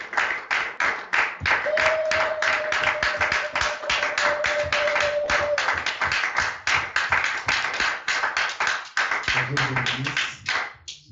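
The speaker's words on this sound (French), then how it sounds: "Est-ce que nous pouvons très fort acclamer le Seigneur?" Congregation at a church service clapping for the Lord, loud, fast and rhythmic, many hands beating together for about ten seconds with a sustained held tone underneath before the applause trails off.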